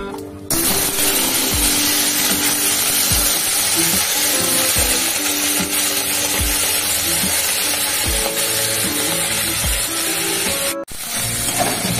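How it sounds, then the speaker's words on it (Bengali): Washed Badshabhog rice fries with a bay leaf in a pan for payesh, a loud, continuous sizzle with repeated low scrapes and knocks of stirring, close by, broken once by a brief cut near the end. "তেজপাতা দিয়ে ধুয়ে নিচ্ছি, বুঝলি? ভালো করে ভেজে নিচ্ছি।"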